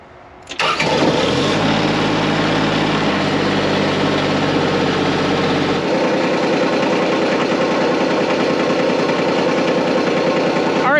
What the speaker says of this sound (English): now we're gonna fire her up and rev it up a little bit